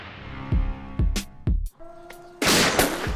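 Target-shooting gunshots fire in a sharp series of about four loud, close reports, then a louder burst of blasts, with no talking.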